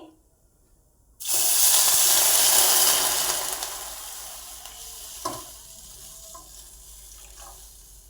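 Vermicelli fries in a pan, silent at first, then a sudden loud rush of sizzle that gradually fades to a softer hiss, with one faint clink.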